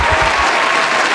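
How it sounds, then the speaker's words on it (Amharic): An Ethiopian show audience gives loud, dense applause, a close continuous wash of many hands clapping that lasts only a moment. "አጨብጭቡላት።"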